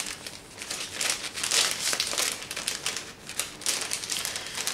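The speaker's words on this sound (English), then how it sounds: "I gotta get this cellophane wrap on" Cellophane wrap being handled around a 15-LP vinyl box set, a continuous close crinkling and crackling with irregular louder bursts, no voice.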